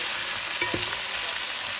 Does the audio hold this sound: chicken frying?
yes